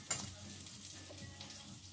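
Waffle batter frying in oil for a home waffle dinner, a steady soft sizzle with a brief louder crackle near the start, close and alone with no talk.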